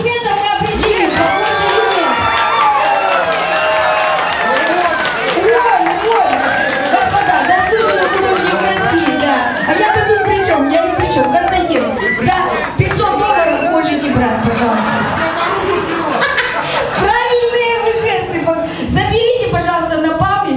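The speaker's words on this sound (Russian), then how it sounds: "Господа, по аплодисментам мы определим." A large live audience at an art show of portraits and caricatures applauds and cheers loudly and continuously, with shouts and crowd chatter running throughout.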